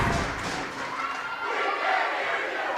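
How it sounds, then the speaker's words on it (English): At a high school girls' volleyball match, the gym crowd roars and yells continuously after an ace serve, a loud, full cheer that swells slightly toward the end. "The crowd's getting into it, that's for sure."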